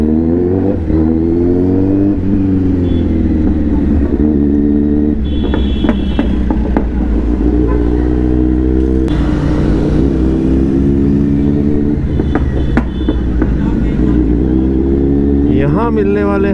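A Kawasaki Z900 motorcycle engine idles and revs in slow, crowded traffic, a loud, steady low drone with rising and falling throttle blips and scattered horn beeps, while a rider talks over it.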